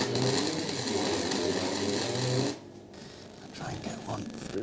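A welder tack-welding on an old Ford buzzes and crackles steadily for about two and a half seconds, loud and close, then cuts off, leaving quieter workshop shuffling and faint noises.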